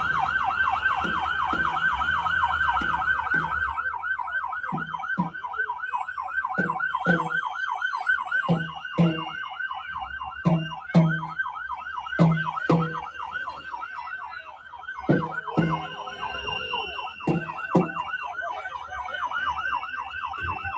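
Wailing emergency sirens cycle continuously, loud and close, with rhythmic yelping tones and background commotion of people yelling.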